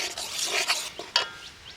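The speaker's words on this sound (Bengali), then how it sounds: "এইভাবে অল্প অল্প করে দেবো আর একটু করে নাড়তে থাকবো" Mango pulp being stirred with melted jaggery in a pan, giving soft wet scraping and sloshing strokes, fairly close and moderately loud, with a sharper clack of the spoon partway through and no talking.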